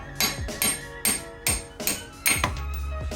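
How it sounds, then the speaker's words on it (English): Hammer strikes driving out wheel studs on a Mazdaspeed 3 hub, six sharp metallic blows in a steady rhythm, close and ringing briefly after each hit. "we're just gonna hammer this out"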